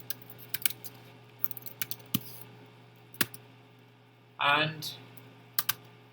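A computer keyboard is typed on in scattered, light clicks and short bursts of keystrokes at close range, with a brief, louder rustling noise partway through and a single spoken word.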